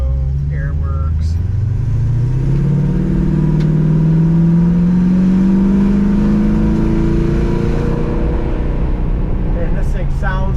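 A 1965 Mustang Fastback engine hums steadily as the car drives along, pitch rising gradually as it accelerates, with a voice talking over it.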